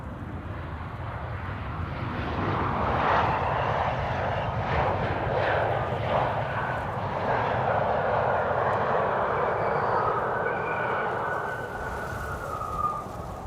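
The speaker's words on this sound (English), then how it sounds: "KLM flight 1662 arriving from Bologna, E2 Embraer 195." KLM Embraer 195-E2 jet arriving at Amsterdam Schiphol, a sustained engine whine and rumble that rises and falls gently over the span, fairly close, with no voices.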